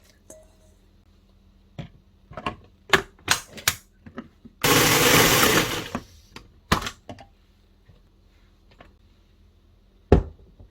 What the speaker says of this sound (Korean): 믹서기에 청각도 넣어줄 거예요